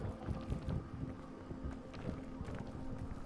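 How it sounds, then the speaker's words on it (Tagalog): Gusting wind in a zombie video game blows steadily with a low, rumbling whoosh and scattered soft clatters, no talking. "Hangin. Hangin. Hangin na."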